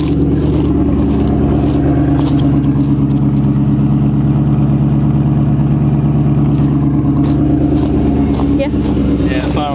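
A 1995 Ford Thunderbird engine running steadily just after starting, a loud, close, continuous idle hum with people talking over it.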